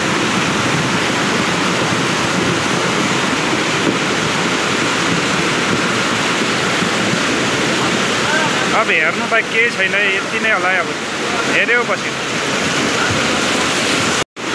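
Rainwater rushes down a road during a landslide in Majua, South Sikkim, after heavy rain, a loud, close, unbroken roar that fills the whole clip while a person talks briefly over it.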